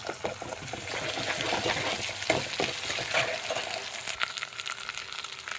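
Ginger garlic paste sizzling and being stirred in a hot pan for a tomato rasam, a dense, steady crackling fry with faint scraping of the spoon, close and continuous.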